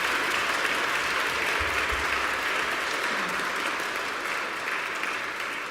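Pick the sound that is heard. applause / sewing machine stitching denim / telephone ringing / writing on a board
applause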